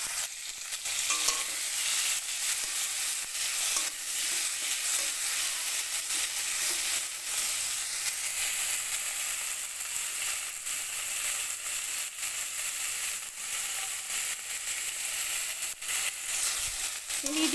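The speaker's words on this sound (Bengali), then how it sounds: "মিডিয়াম আঁচে চিংড়ি মাছগুলো ভেজে নেব।" Prawns fry in mustard oil over medium heat, a continuous dense sizzle with spatter and occasional stirring scrapes throughout, steady and fairly close.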